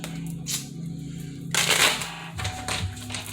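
A deck of Egyptian tarot cards being shuffled, with quick papery riffles and clicking flutters, a louder burst midway through, close and fairly quiet with no speech.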